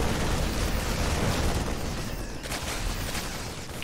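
Rumbling explosions from a sci-fi combat video game with drones and infantry, a dense, continuous wall of blasts and crackling bursts that stays loud throughout with no speech.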